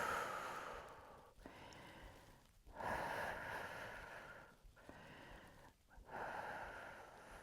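Slow, audible breaths during a lateral side stretch in a full-body strength workout, soft airy inhales and exhales in a loose rhythm of about four cycles, close and quiet.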